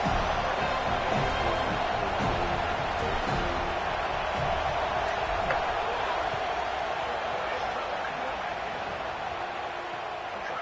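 A football stadium crowd at Florida State's season-opening kickoff roars as a dense, constant wash of noise, loud and unbroken, with a commentator's voice faintly underneath.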